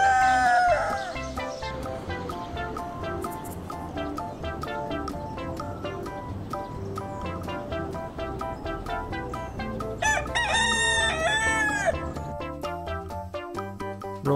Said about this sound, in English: Yes, it is rooster.